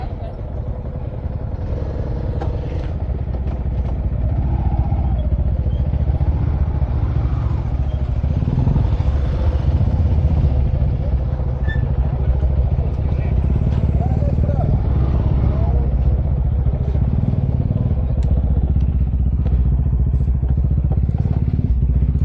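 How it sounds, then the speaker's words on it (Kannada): A Bajaj Dominar motorcycle engine runs steadily close by, a continuous low rumble that swells slightly after a few seconds, with people talking over it. "ಇದು ಡಾಮಿನಾರ್. ಮತ್ತು ಡಾಮಿನಾರ್ ಸೌಂಡ್ ಮಸ್ತ್ ಅದ."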